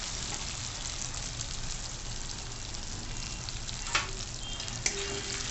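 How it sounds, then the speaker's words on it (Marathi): Pigeon peas in masala sizzle and fry in hot oil in a pan while being sautéed, a steady close crackle with a couple of brief clinks of a spoon against the pan. "आता आपण छान परतवून घेऊ तेलामध्ये"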